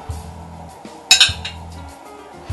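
A spoon clinks sharply against a dish while stirring juice and rum for a pineapple cake, with a couple of bright metallic taps midway over quiet kitchen background sounds.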